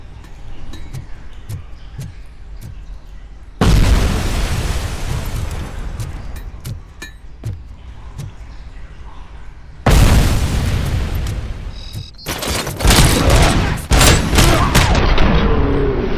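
Grenade blasts in the video game RoboCop Rogue City: two loud booming explosions with long rumbling tails, then a denser burst of crackling blasts and gunfire, over intermittent sharp shots.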